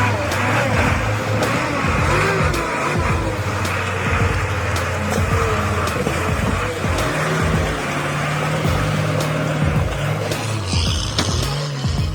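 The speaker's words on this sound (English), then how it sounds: "The Ural 6x6 timber monster lives up to its name, powering through every terrain with its raw strength." A Ural 6x6 timber truck drives over rough terrain, its engine droning and revving with repeated clunks and scrapes throughout.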